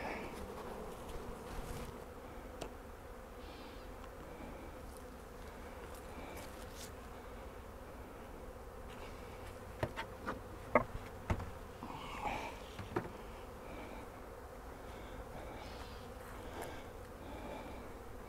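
Low steady insect buzzing from many honeybees around a hive feeder, a constant drone with occasional sharper bursts of nearby wing noise.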